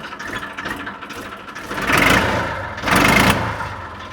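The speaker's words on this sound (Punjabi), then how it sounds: "ਜਮਾਈ ਸਾਇਲੈਂਟ ਟਰੈਕਟਰ ਜਮਾਈ ਸਾਇਲੈਂਟ ਇਹ ਚੌਥੇ ਗੇਅਰ ਤੇ ਤੋਲਣ" A Ford 3230 tractor engine runs in fourth gear, a loud near rumble that swells twice as the throttle surges, with no talk over it.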